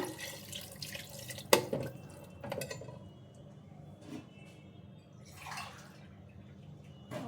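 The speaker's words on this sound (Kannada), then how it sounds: "ಸೊ ಈಗ ನೀರು ಹಾಕ್ಕೊಂಡು ಕುದಿಸ್ಕೊಳ್ಳೋಣ." Water poured into a cooking pot of rice and soya chunks in short, uneven splashes, with a sharp metallic clink early on and quieter trickles between pours.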